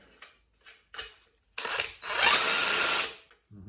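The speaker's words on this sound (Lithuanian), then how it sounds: "Priveržiam veržlę." A nut is tightened on an AL-KO 251S overrun damper, with a few short ratcheting clicks followed by a longer steady whirring run of a power tool, close and fairly quiet.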